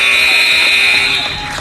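A loud, sustained electronic buzzer sounds at the end of the second quarter of a high school basketball game, Mission Prep vs Rocklin, steady and close with faint crowd noise under it.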